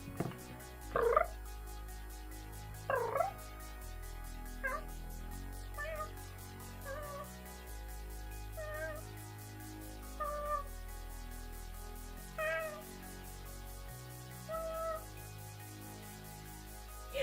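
A cat makes several tiny, faint chirping meows spaced a couple of seconds apart over a quiet, low hum.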